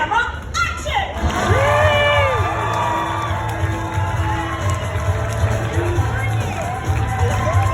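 Crowd cheering and whooping with children's shouts at a theme-park dog audition show at Universal Studios, loud and sustained after a brief opening burst, with voices mixed into the roar.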